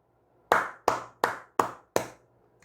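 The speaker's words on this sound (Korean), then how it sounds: "슈팅 나온 기념으로 박수 한번 치고 가도록 하겠습니다." Five sharp, loud hand claps ring out close by in an evenly spaced rhythm, each with a short decay and nothing else heard between them.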